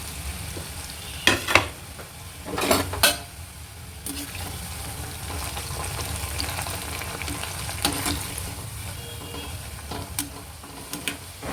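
Potatoes frying in hot oil for honey chilli potato give a continuous close sizzle, broken by a few louder bursts of clatter and stirring.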